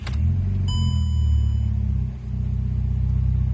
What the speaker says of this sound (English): don't know if you can hear the exhaust